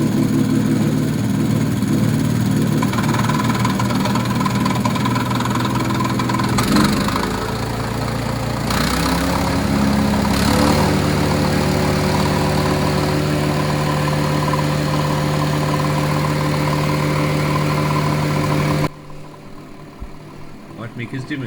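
6.5 hp wood chipper engine running at half throttle, a loud steady mechanical drone with a brief dip and shift midway, then cutting to a quieter end, while a person talks over it.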